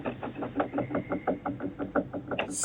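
Knocking on a back door at night: a quick, steady run of about a dozen hard raps, close and fairly loud, with no voices.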